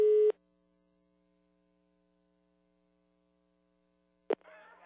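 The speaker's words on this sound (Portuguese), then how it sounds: "Tá chamando, sim." An outgoing telephone call's ringing tone, a single short steady electronic beep at the start, followed by a long silent pause before a brief click and faint line noise.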